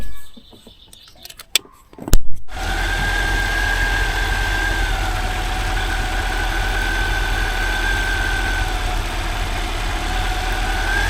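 A Suzuki SJ410 4x4 engine idles steadily after a loose bolt is fixed, a close, even mid-pitched running drone with no talk, following a few brief clunks at the start.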